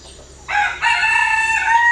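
A rooster crows with harmonic calls that start partway through and hold to the end, with chickens clucking faintly early on, in a farmyard where the birds are being treated for illness; no one speaks.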